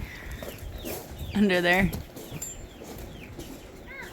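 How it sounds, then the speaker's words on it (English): Turkeys in the back of a trailer on a homestead on processing day give one loud, tonal, wavering call lasting about half a second, close by, with a person speaking briefly around it. "We have our turkeys in the back of our trailer."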